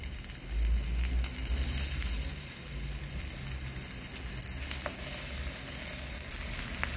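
Vegetable shikampuri kebabs roasting in oil in a pan, giving a steady, even sizzle with a low background rumble and a couple of faint clicks, close by and moderately quiet.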